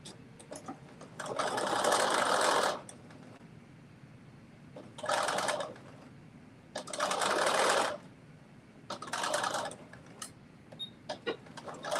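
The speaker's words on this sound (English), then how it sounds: "now I'm going to flip it over and do that basting stitch down the side" Sewing machine running a basting stitch down the side of a garment piece, in four separate bursts of steady whirring with quiet pauses and small handling clicks between them.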